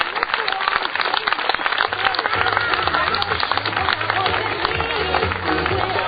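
Crowd at the Coupe Icare paragliding festival applauding a landing, sustained clapping and cheering from many people heard together with a voice over a loudspeaker, with some music in the background.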